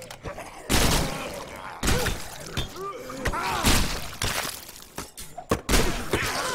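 In State of Decay, shots are fired at helmeted marine zombies: a handful of sharp gunshot bursts and thuds at moderate loudness amid game noise, with a voice talking over them.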